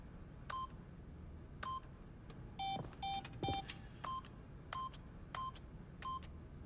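A keypad in The Stanley Parable gives a series of short electronic beeps as a PIN is entered, about a dozen evenly spaced tones with one brief whooshing sweep between them, clean and moderately quiet.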